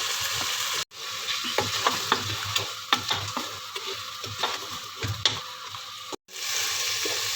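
Mutton pieces sizzling and frying in a karahi, a steady loud hiss with scattered crackles and stirring scrapes, close up, broken by two brief cuts to silence.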